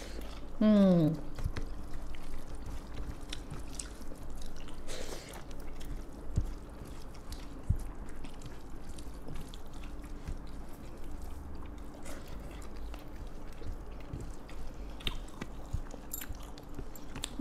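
Fish fry and chicken fry eaten with rice, soft close chewing and biting with small wet mouth sounds continuing throughout, a brief voice sound near the start.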